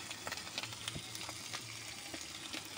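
An egg fries in a pan at home, a steady hissing sizzle with small crackles and pops throughout.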